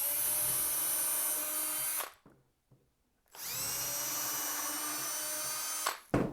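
A power drill drives screws into a wooden acoustic panel frame, a loud sustained whine lasting about two seconds, a brief pause, then a second long run of drilling ending with a short burst.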